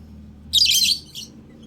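Pet birds chirping indoors, a short bright burst of high twittering calls followed by a briefer second chirp, close and clear over a quiet low background hum.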